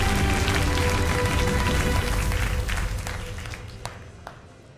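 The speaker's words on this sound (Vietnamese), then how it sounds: "Xin mời quý vị cho một tràng pháo tay đối với Á quân của chương trình." An audience applauds the runner-up at a televised game show, with dense, steady clapping from a crowd that fills the room and then thins and tapers off toward the end.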